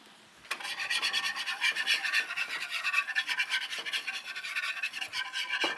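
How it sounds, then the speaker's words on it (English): White balsamic vinegar whisked into a salad dressing in a bowl, a close, rapid rhythmic scraping whir of the whisk that starts abruptly and runs steadily, with no talk. "we're gonna whisk in white balsamic or white wine vinegar"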